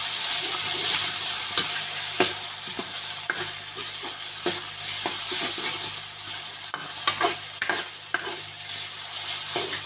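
Chopped tomatoes are stirred into a sizzling masala for Hyderabadi chicken: a steady frying hiss runs throughout, with scraping stirs and soft clinks of a spoon against the pan coming in irregular strokes.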